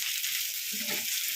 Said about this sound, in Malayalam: ഇങ്ങനെ അരച്ചെടുത്ത് നമുക്ക് അരപ്പം ഒഴിച്ച് കൊടുക്കാം